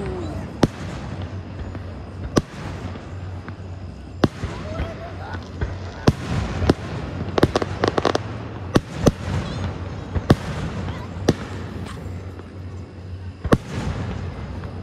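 Outdoor fireworks at Bessemer City, NC, are launched three at a time, sharp loud bangs and cracks popping at irregular intervals, some in quick clusters, over distant crowd murmur with occasional voices.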